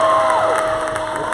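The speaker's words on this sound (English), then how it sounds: "The crowd is getting this team back into it." A crowd at a women's college basketball game between Central Penn and Cheyney erupts in loud, sustained cheering and shouting after a turnover, steady and close throughout.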